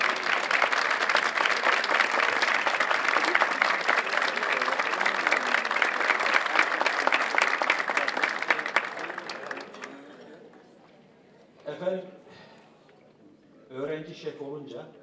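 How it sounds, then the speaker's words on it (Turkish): Strong, steady audience applause welcomes a conductor to the stage at a classical Turkish music choir concert, fading out after about ten seconds, followed by a few short bursts of talk. "Burcu Kökçü'yü alkışlarınızla sahneye"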